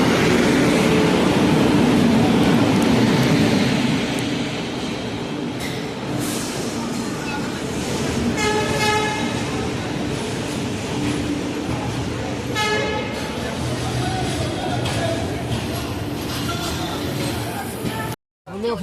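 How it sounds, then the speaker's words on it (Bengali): Dwarka Express pulling into Bongaigaon station: loud rumbling train noise with several repeated horn toots in the middle, carriages clattering along steadily, then a brief dropout near the end. "আমাদের দ্বারিকা এক্সপ্রেস বঙ্গাইগাঁও ঢুকলো"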